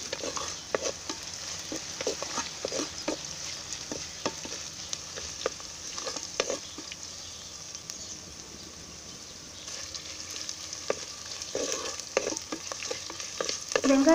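Onions fry in a pan for beetroot rice, a continuous soft sizzle broken by repeated sharp clicks and scrapes of a spoon stirring, with a quieter stretch midway before stirring resumes.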